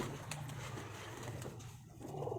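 Red-eyed pigeons coo in a low, steady murmur, several birds overlapping in a continuous close-by drone with no voices.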